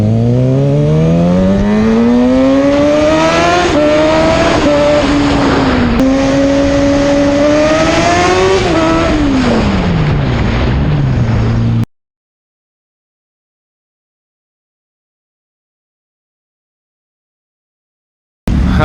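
Kawasaki ZX6R sport bike pulling hard at full throttle, its loud high-pitched engine note climbing through rising revs with quick shift dips, then cutting off abruptly into silence.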